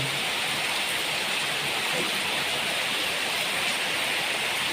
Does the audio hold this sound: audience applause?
no